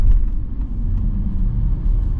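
A BMW E39 525i on a test drive gives a low, steady engine rumble from inside the cabin, continuous and fairly loud with no talking.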